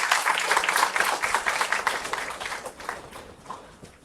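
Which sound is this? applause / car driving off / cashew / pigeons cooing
applause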